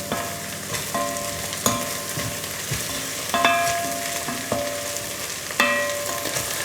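Fresh thyme and rosemary sizzle in hot oil with lamb as a spoon stirs the pan, a steady frying crackle punctuated by several distinct metallic scrapes and clinks against the pan.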